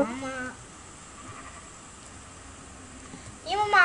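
Two short, high bleats from Minecraft sheep open and close the clip, separated by about three seconds of faint background hiss.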